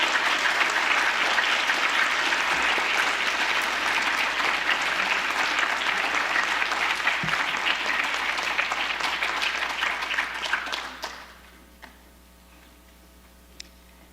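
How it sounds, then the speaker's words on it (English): Sustained applause fills the hall for the 2025 National Honor Society inductees at a school induction ceremony, a dense even wash of clapping that runs steadily for about eleven seconds before cutting off to near silence. "Could we get a round of applause for the 2025 National Honor Society inductees?"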